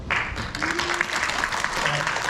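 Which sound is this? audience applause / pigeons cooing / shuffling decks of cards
audience applause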